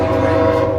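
A train horn blows loud and sustained, a steady held tone with rich layered pitches lasting the whole moment, with no voices over it.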